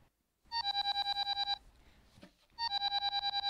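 A mobile phone rings indoors in two bursts of a rapid, pulsing electronic ringtone, separated by a brief pause, moderately loud and close with no talking over it.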